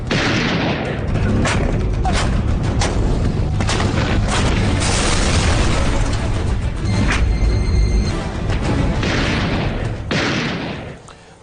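Bomb blasts and heavy gunfire boom and echo across a Kargil war valley, a dense, continuous barrage of loud explosions and shots rolling on without pause before fading at the end.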